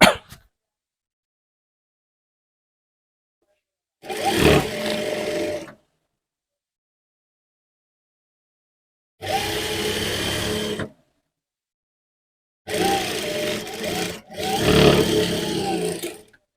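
A sewing machine stitches kurti lining cut from an old saree in four separate bursts of whirring, each one to two seconds long, with silent gaps between them. The runs are close and clear, with no talking.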